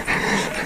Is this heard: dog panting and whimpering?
yes